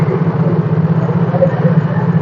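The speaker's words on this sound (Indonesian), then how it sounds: "stabil mesinnya saat idle tanpa menggunakan aki" A Yamaha Mio J motorcycle engine idles steadily without a battery, running on a 10,000 µF 50 V capacitor instead: an even, low, continuous hum that holds at a constant level throughout.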